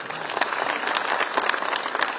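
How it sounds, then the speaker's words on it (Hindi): A crowd at a public event in Odisha where the Chief Minister is present bursts into sustained applause, a dense, loud, continuous clatter of many hands clapping close by for the whole stretch, with no distinct voices above it. "जोरदार करताली टे हो"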